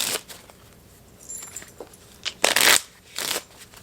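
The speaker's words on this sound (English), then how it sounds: "we'll just put that Jack back in the deck and shuffle for draw number 3 already" A deck of playing cards shuffled by hand, heard as a few short crisp riffling bursts with brief pauses between them, close up and fairly quiet, with no voices.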